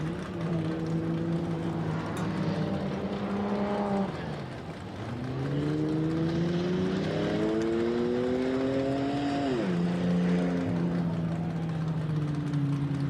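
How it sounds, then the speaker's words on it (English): A Jeep at the 2017 MetalCloak Stampede off-road race crosses the start-finish line, its engine droning steadily and rising and falling in pitch as it revs, with a brief dip before climbing again. "We got another Jeep coming over the MetalCloak start line finish"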